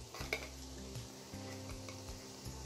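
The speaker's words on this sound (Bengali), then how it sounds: "এখন এই সব মশলাগুলোকে আমি ভালো করে মিক্স করে নিচ্ছি।" Spices being mixed into mutton paya in a pan, soft scraping and stirring strokes with a faint sizzle beneath, close but quiet, with a low steady hum running underneath.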